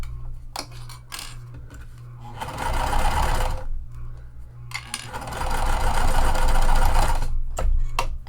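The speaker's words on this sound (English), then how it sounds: "And then I just backstitch right there" Sewing machine stitching and backstitching through clear vinyl and fold-over elastic, two loud runs of steady motor whirr with a pause and faint ticking handling in between.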